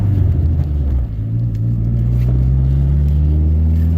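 Engine and road rumble from a manual Dodge SRT-4 or PT Cruiser GT are heard from inside the cabin, with a low, steady drone that climbs gradually in pitch as the car accelerates.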